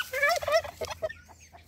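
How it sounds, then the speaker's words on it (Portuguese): A turkey gobbles near a nest in a farmyard, a loud close burst of rapid warbling gobbles followed by a few fainter clucks, with no talking. "o peru aqui querendo chocar o ovo"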